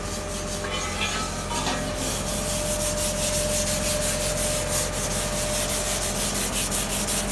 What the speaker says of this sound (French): petit ponçage avant la mise à l'eau. Il faut que le coppercoot soit légèrement poncé pour être actif.